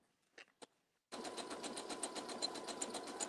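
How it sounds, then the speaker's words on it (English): A sewing machine runs a zigzag stitch through denim, starting abruptly after two brief clicks and then whirring steadily with a fast, even mechanical chatter, close and fairly quiet. "I'm going to do a zigzag stitch"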